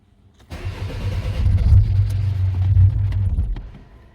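A Mercedes W203 C-Class with a 2.2 CDI diesel engine, its fuel system holding air after fuel line gasket work, cranks and catches with a loud, close, low rumble that runs for about three seconds before dying away.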